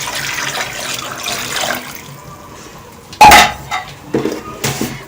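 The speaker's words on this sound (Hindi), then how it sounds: "मैं इसके अंदर 2 गिलास पानी के ऐड कर रही हूँ" Water from two glasses poured into a cooking pot over a lit stove flame, a sudden loud splash and gush followed by a few shorter trickles and clinks, after quieter kitchen background.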